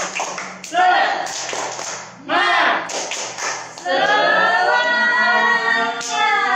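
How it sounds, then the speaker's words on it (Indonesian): Group clapping routine for a live online children's session, with sharp claps at the start breaking into sustained chanted voices, fairly close and loud. "Kita tepuk semangat ya."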